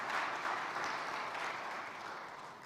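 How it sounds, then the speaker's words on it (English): Audience clapping at an entrepreneur pitch day, a dense even patter of applause at moderate distance that slowly fades toward the end. "let's give them a very, very huge hand clap."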